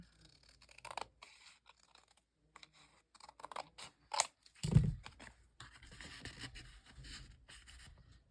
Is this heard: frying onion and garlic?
no